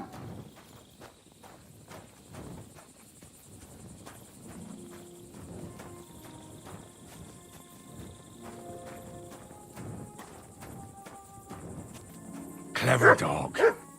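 A dog barks in the medieval role-playing game Kingdom Come: Deliverance II, a short burst of several close barks near the end over steady cricket chirping and footsteps, with a player talking throughout.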